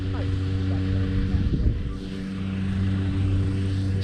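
A propeller airplane drones steadily overhead on a sunny day at a skydiving site, a continuous low engine hum with a rising tone in the middle, heard from the ground with light wind.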